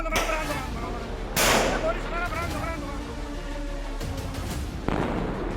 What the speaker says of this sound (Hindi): गन शॉट के साउंड से दहशत फैला रहा था